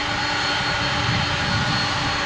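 A 1992 MD-11 airliner at DFW International Airport, a steady loud roar of jet engines held close and unbroken, with a faint whine riding over it.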